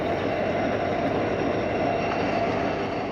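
Steady, loud rumble of railcars rolling on track after a train runs over a derail, a dense unbroken roar with no distinct impacts.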